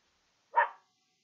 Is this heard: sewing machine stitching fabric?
no